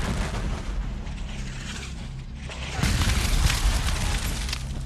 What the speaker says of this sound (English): Lyon's battery of 6 and 12-pound cannons opened fire, followed shortly after by Sigel's battery